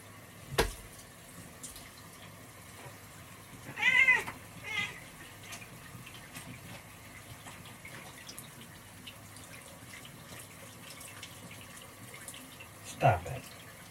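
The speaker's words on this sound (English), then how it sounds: "But this right here, this is Spaz Cat." A house cat gives a few short meows at scattered moments, fairly close, against a quiet indoor background with faint dripping water.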